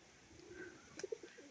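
A male pigeon giving a short, soft coo, faint and close, with a couple of brief throaty notes against a quiet background.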